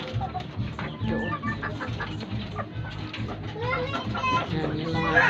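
Chickens cluck and squawk in a backyard coop, a busy overlapping chorus of calls close by, with voices talking in the background.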